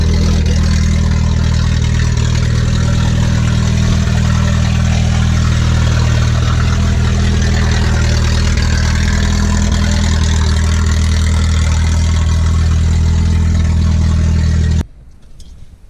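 A big, chunky car engine with poor fuel economy runs close by at a loud, rough, rumbling idle with a deep low throb, steady throughout before cutting off near the end.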